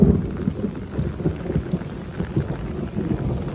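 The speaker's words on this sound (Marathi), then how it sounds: "आणि मस्त पाऊस पडत आहे" Heavy rain with thunder during a storm that has broken tree branches, a steady close downpour with low rumbling and thuds rolling through it, no talk.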